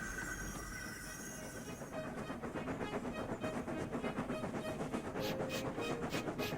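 A steam engine train rolls along with rhythmic clickety-clack and chuffing that grows steadier and louder after a quieter start, with occasional higher hissing or squeal accents near the end.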